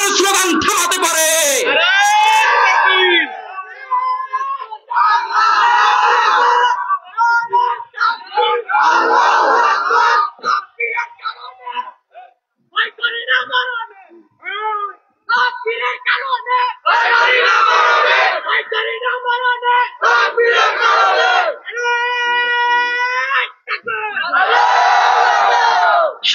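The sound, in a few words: crowd chanting Allahu Akbar takbir slogan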